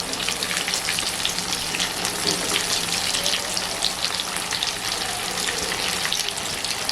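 Dense, steady crackling and sizzling of egg balls frying in hot oil in a large kadhai, loud and close, with no voices.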